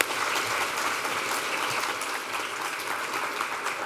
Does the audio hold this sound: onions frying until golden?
no